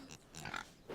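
Cartoon piglets squeal and oink in a quick burst of three or four short, high, faint grunting cries within a second, with no talking.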